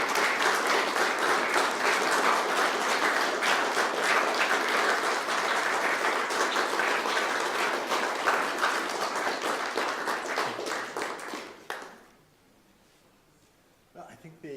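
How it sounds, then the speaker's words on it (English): Sustained audience applause after a lecture fills the hall for about twelve seconds, then fades out, leaving near silence before a voice begins to speak. "The warmth of the applause indicates how well your lecture was received."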